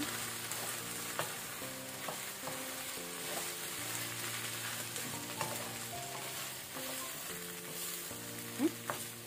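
Okra and amtekai (hog plum) palya with grated coconut and fresh coriander is stirred in a pan. Soft, close scraping and a gentle sizzle run throughout, with faint background music underneath.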